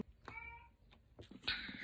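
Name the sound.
cat in heat meowing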